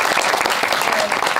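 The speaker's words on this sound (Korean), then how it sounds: "힘을 내라는 뜻으로 박수 한번 부탁드릴게요" Applause from an audience at a film festival talk in Seoul, a dense, steady burst of many hands clapping together, close and loud for the whole moment.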